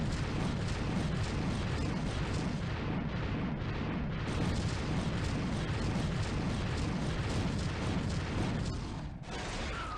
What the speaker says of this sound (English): it will always target your opponent's tank, and will start to fire missiles at them constantly